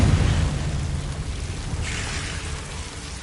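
A Confringo fire spell explodes in the video game Hogwarts Legacy, a dull rumbling boom over a crackling, rain-like hiss that fades across a few seconds.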